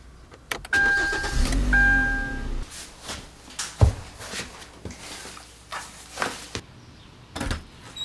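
A car is started with a push-to-start button: dashboard chimes sound, then the engine cranks and catches with a loud burst and settles into uneven revving and idling nearby, with no speech.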